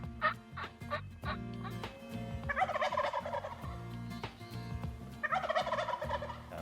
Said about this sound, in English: we heard gobbles to our left.